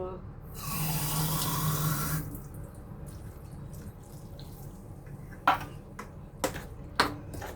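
Water pours in a steady stream for about two seconds as it is added to coconut milk, followed by a few sharp clinks and taps of utensils against a metal pot or can.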